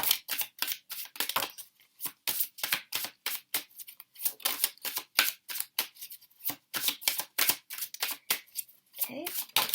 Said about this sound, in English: We're going to take the After Tarot deck, and I am going to shuffle it.